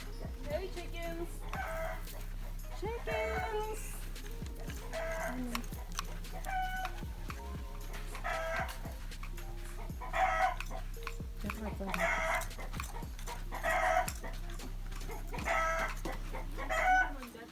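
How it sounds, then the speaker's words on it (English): Chickens on a farm cluck and squawk in repeated short calls at moderate distance, over a constant low rumble, with occasional bursts of louder clucking. "Hey, chickens."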